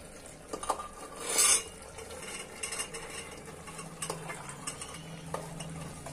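Mogri pods tossed into a pan of frying potatoes for aloo mogri sabzi, giving a brief rattle and clatter of stirring against the pan over a low steady sizzle, with a louder burst early on.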